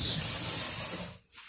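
Spray bottle hissing product onto the ends of a synthetic wig, one long steady close spray that cuts off, then a brief second puff begins.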